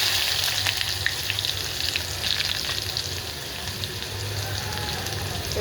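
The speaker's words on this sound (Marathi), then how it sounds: "तेल आपलं गरम झालेलं आहे आता मोहरी टाकून घेते जिरे टाकून घेते आणि हा बारीक चिरलेला कांदा टाकून घेते" Mustard seeds, cumin and finely chopped onion sizzle steadily in hot oil for a vegetable curry, a dense close crackle with faint pops and occasional stirring and no voices.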